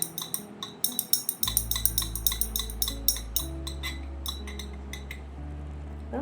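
Homemade face serum ingredients are stirred in a container with a utensil, producing quick, light clinks and taps in an even rhythm, close and fairly quiet.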